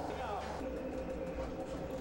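Alpine mountain railway train climbing toward Mürren in the Swiss Alps, heard as a continuous, close, steady rumble of rolling wheels and carriage noise with no pauses.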